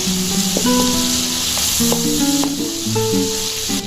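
Okra sizzles and crackles steadily in a hot pan as Kashmiri chili powder is stirred through it, with a spoon scraping and clinking against the metal over the constant frying hiss.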